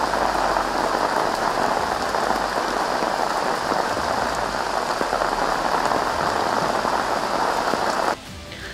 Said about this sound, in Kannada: ರಾತ್ರೋರಾತ್ರಿ ಬೆಂಗಳೂರಿನಲ್ಲಿ ದಿಢೀರ್ ಮಳೆ ಸುರಿದಿದ್ದು